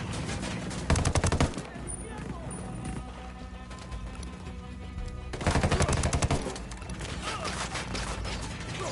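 Bursts of video-game gunfire from Ghost Recon, with heavy volleys near the start and again around the middle and sparser shots between them, while a voice talks over the fighting.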